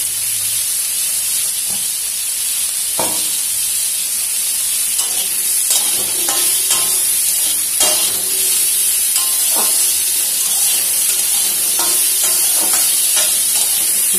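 Food frying in a pan while being stirred, a steady loud hiss of sizzling oil with scattered scraping and clinking strokes, close by with no speech.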